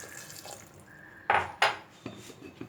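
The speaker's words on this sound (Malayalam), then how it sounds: "ഇതിലേക്ക് നമുക്ക് കുറച്ച് വെള്ളം ഒഴിക്കാം." Water goes into a cooking pot while vegetable kurma is being made. A soft trickle is followed by a few sharp splashing clanks of the pot and utensils, close and fairly quiet, with no talk.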